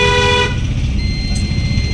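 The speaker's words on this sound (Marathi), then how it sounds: "क्रेटा गत हॉर्न वाजतो." Car horn sounding after a faulty relay was replaced, a single loud steady toot up close that cuts off after about half a second, leaving engine and road rumble.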